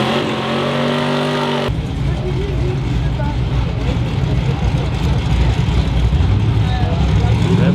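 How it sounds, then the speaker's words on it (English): A white Chevrolet S10 pickup truck doing a burnout: a loud, close engine rev gives way to a sustained, rough roar of spinning tyres, with voices faintly underneath. "See if you can get a good burnout here."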